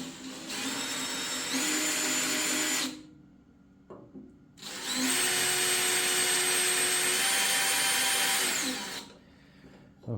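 A power drill bores pilot holes into a steel tractor bucket in two long, loud, steady whining bursts separated by a short pause, with the motor pitch holding constant through each run.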